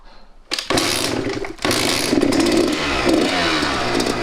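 A two-stroke street legal dirt bike engine is kicked to life after a quiet pause, cuts out briefly, then catches and revs loudly with a raspy, crackling buzz that stays close and continuous.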